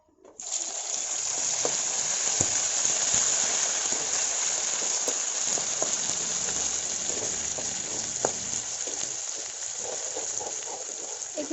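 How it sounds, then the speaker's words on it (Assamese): A paste of ground dry fruits with onion, ginger and garlic hits a hot pan and fries with a loud, continuous hiss that starts abruptly and holds steady throughout. "মই এইখিনি দিম ভাজি পেলাই পেষ্ট কৰি থোৱা ড্ৰাই ফ্ৰুইটছখিনি আৰু পিঁয়াজ আদা নহৰু এইখিনি"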